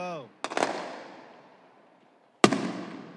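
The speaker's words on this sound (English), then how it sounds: "There's some dude messing around with some fireworks." Fireworks from a nearby Fourth of July show burst in two loud, separate volleys, each a sharp crack followed by a long fading crackle and rumble. A brief sound at the very start could be a voice.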